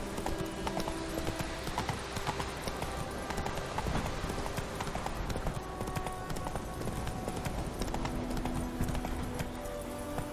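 Geralt's horse Roach galloping in The Witcher 3, steady rapid hoofbeats pounding continuously and loudly over a dense game soundscape.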